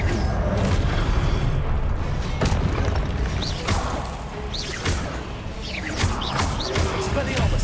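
Confringo spell blasts in the video game Hogwarts Legacy, several loud booming explosions with whooshing bursts repeated over busy game noise, and a voice talking throughout.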